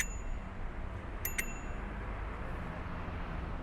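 A bicycle bell rings twice in quick succession, bright and fairly close, over a steady roar of wind and road noise from riding along Lincoln Road in Miami Beach.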